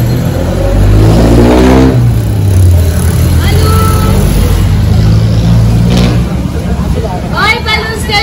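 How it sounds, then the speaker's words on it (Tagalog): A jeepney's mid-sized engine revs and rumbles loudly as it passes close by on a busy Manila street near Intramuros, with the pitch rising under constant street noise and people talking nearby. "Ayan na yung jeep guys"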